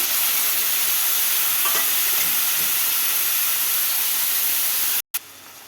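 Boiled cluster beans sizzle and hiss in a pan with ginger garlic paste, a dense steady frying noise with a few stirring scrapes, cut off abruptly near the end.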